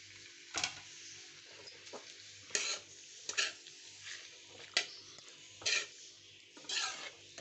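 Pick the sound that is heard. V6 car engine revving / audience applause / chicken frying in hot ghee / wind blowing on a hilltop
chicken frying in hot ghee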